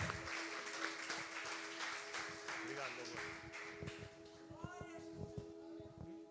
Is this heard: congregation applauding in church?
yes